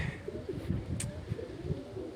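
Soft pigeon coos murmur in low, rounded pulses over a quiet background, with a brief faint chirp partway through.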